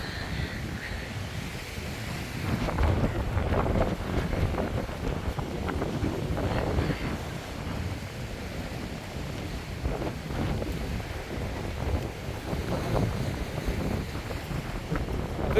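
Wind blowing at a beach, a steady, moderately faint rush and buffeting against the microphone mixed with soft surf, continuous throughout with gentle swells in loudness and no speech.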